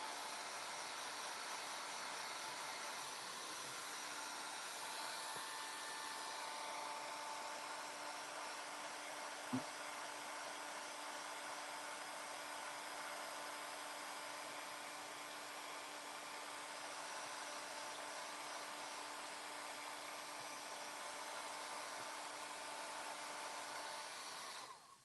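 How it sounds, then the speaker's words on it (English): A heat gun runs for embossing at a craft table, giving off a steady, even rushing hiss for nearly the whole stretch, close and unbroken, with no talking over it. "I'm going to turn my heat gun on a little bit."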